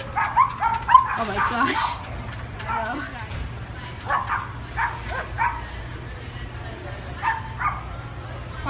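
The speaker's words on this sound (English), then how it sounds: "what do you think of these dogs?" Several dogs bark, yip and whimper in bursts, close and fairly loud, while a person speaks over the first part.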